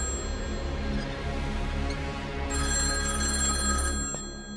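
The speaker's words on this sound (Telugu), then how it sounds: "ఆ ఫోన్ నీకా నాకా?" A telephone rings indoors in a scene from the Telugu action thriller Mr Bachchan, its bell sounding steadily through the whole stretch over a low background hum, with no voices.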